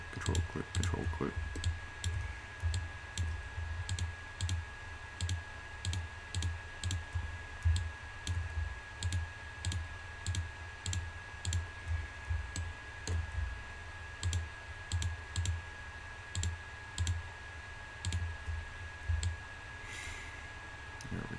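Computer mouse clicks while editing a low-poly 3D fire hydrant model: a steady run of sharp, close clicks in a regular rhythm, repeated throughout over faint room hum.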